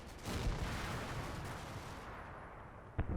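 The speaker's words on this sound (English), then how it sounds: "the Sherman is shooting up the house there with the Panzerschreck team in" A Sherman tank's gun fires at a house in the Combat Mission World War II game, opening with a heavy boom whose rumble fades out, then a short sharp report near the end.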